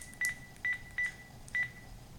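Four short keypad dialing tones sound on a telephone, evenly spaced and clear against a quiet line hiss, with no talk.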